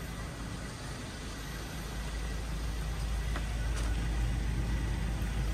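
A car being driven, heard from inside as a steady low rumble and broadband road noise that grows slightly louder after the first couple of seconds, with no talking.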